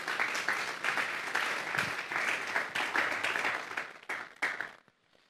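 Church congregation at a Sunday service giving sustained, dense applause that stays steady for about four seconds, then thins out and stops.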